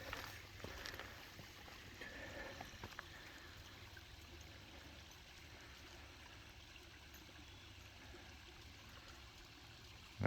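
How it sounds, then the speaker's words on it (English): Water running in a stream after a night of hard rain, a faint, steady trickling rush heard from some distance outdoors, continuous and soft with no talk. "I guess y'all can hear the water running."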